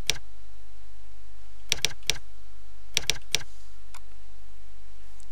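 Keys tap on a computer keyboard while numbers are entered into an Excel sheet, short clusters of three quick clicks separated by pauses, close and crisp in a quiet room.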